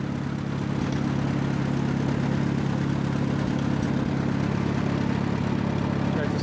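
An Allis-Chalmers WD tractor engine running steadily, a loud, even low-pitched drone and throb that holds constant throughout with no change in speed.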